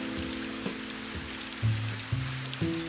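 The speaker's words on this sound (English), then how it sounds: "I was gonna say the rain's a little weird, but it actually makes it feel a little more natural" Steady rain falls throughout a scene in the video game Viewfinder, a constant close hiss with a few soft low musical tones swelling over it and no voices.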